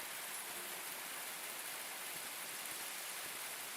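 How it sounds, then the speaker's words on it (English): Acid rain falling in a video game, a steady faint hiss of rainfall with no other sounds. "The acid rain is actual acid rain"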